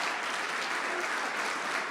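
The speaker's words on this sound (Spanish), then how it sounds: "Dale un aplauso al Señor." Applause from a church congregation during a Spanish-language sermon, a continuous even roar of many people clapping at moderate level throughout.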